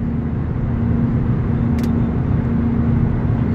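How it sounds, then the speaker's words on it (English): A car rolls across the road during a drive home, heard from inside a moving vehicle as a steady, loud low engine and road drone with a brief click midway. "Car crossing the road."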